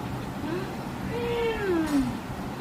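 A single drawn-out meow from a cat in heat rises and falls in pitch over a steady low background hum, with faint speech-like murmur present.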